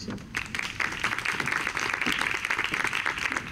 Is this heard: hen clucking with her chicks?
no